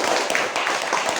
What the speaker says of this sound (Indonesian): kasih tepuk tangan untuk temannya